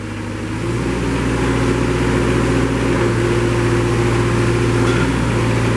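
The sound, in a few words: Moffett M55 truck-mounted forklift running, mast carriage moving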